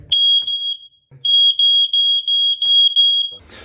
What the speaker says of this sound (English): hopefully that's shown you how to test a smoke alarm